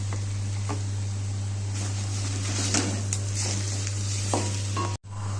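Mashed boiled potato is stirred and mixed with chilli powder, turmeric and spices in a pan with fried onion and chilli, giving a steady sizzle with scraping strokes of a spoon against the pan, close and continuous under a constant hum.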